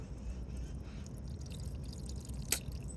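Water seeps from a rusty Chevy 307 small-block engine during teardown. A faint, quiet background is broken by one sharp drip near the end.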